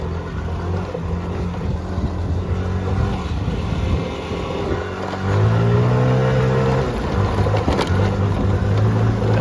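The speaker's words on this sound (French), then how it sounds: "j'ai voulu mettre plein gaz pour voir ce que ça faisait" A car engine revs at full throttle on a road near a flooded, barred-off section, a steady drone that swells into a louder, rising roar partway through, heard close and loud.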